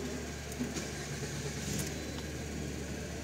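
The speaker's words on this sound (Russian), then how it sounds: "Так, запускаем двигатель." Engine of a Lada Granta with automatic transmission running at a steady idle, a low continuous hum that stays even throughout, with no clear start-up surge.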